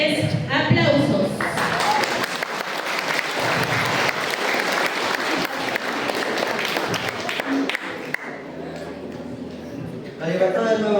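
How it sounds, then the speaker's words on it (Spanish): An audience at a school essay and speech contest applauds a student speaker, sustained loud clapping from a crowd for about ten seconds before fading, with a voice briefly at the start and end. "a quien recibimos con fuertes aplausos"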